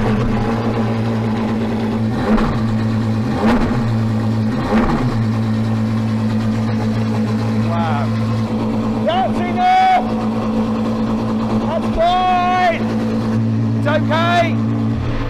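Apollo hypercar's 6.3-litre naturally aspirated V12 with almost 800 horsepower, a loud steady idle drone broken by several sharp revs that rise and fall, with people talking.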